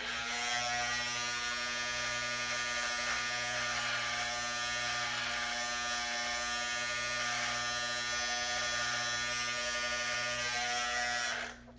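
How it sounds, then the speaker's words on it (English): An electric beard trimmer buzzes steadily and close up for nearly twelve seconds while it lines up the top edge of a mustache, a continuous motor whine with no talking, cutting off sharply at the end. "now I'm going to do the top line of my mustache by reversing my positioning of the trimmer"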